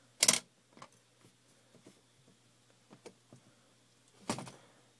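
Bolt pulled out of a Cooey .22 rifle, heard as two sharp, close metallic clacks about four seconds apart, with faint small clicks and rattles between them.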